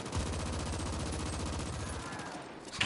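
Rapid sustained automatic gunfire in the sci-fi shooter The Ascent, a dense, continuous rattling stream of shots that stays loud and unbroken before a brief pause at the end.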